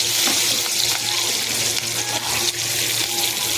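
Food frying in a pan until brown, a dense, continuous sizzle with watery hiss, steady and close with no talk.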